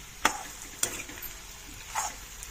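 Chili powder frying in oil in a pan makes a faint, continuous sizzle, broken by a few sharp spoon clinks and stirring scrapes against the metal.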